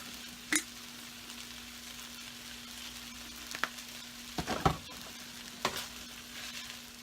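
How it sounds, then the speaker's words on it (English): Pork fried rice frying in a pan after soy sauce is added: a faint, low sizzle with a few sparse crackles and stirring scrapes, no voices. "you can go ahead and add a little bit more soy sauce, which is what I'm going to do now"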